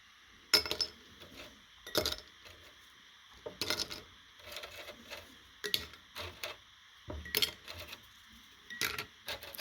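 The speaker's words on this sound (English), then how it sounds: "let's load these lemon slices in the jar" Dehydrated lemon slices dropped one after another into a glass jar, giving a run of light clinks and taps in irregular bursts with short pauses between, close and fairly quiet, with no talking.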